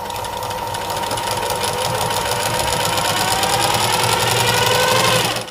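A tailoring sewing machine runs continuously while sewing a top stitch on fabric, its fast, even mechanical whir and needle patter steady and close throughout with no talking.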